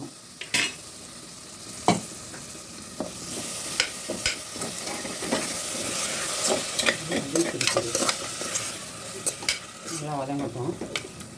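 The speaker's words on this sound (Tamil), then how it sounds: "நல்லா வதங்கட்டும்." Chicken masala with curd sautés in a pan, a constant sizzle punctuated by frequent sharp clinks and scrapes of a ladle against the metal, fairly close and steady throughout.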